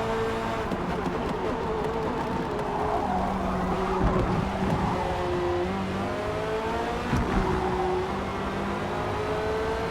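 A Corvette engine revs and shifts through gears in the Forza Motorsport racing game at Barcelona, with a continuous engine whine rising and falling in pitch as it accelerates and upshifts.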